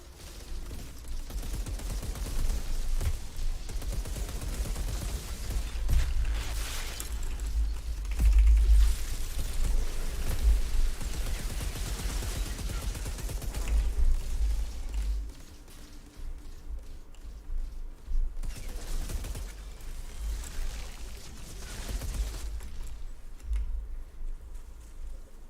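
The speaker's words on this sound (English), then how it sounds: "Look at those turrets going to town." Automated turrets firing during a fight in the video game Outriders, a dense mechanical rattle of rapid shots with heavy low rumble, sustained and loud through most of the stretch before thinning toward the end.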